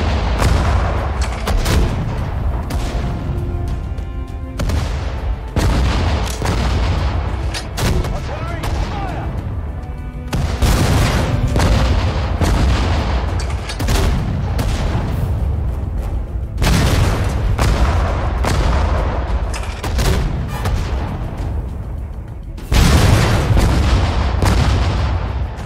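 Gunfire and artillery in Sudden Strike 4 during a North African desert battle near El Alamein, loud dense volleys of shots and booming blasts in repeated bursts, with short pauses between barrages.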